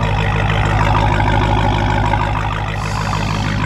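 A Dodge Hellcat's engine runs close by with a loud, deep, rumbling idle, steady throughout with a slight shift in tone near the end and no talking.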